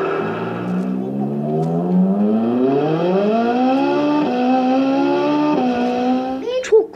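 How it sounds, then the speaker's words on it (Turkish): A Ferrari Enzo engine fires up and revs, with a strong harmonic whine climbing in pitch in stepped surges. It sounds close and loud throughout and ends with a brief burst of noise. "Evet arkadaşlar bu da Ferrari Enzo. Evet çalıştıralım"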